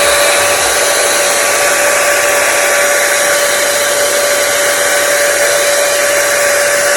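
A hair styler blows steadily on its cold shot setting, a loud, constant whoosh of air with a thin motor whine, running alone without pause or speech.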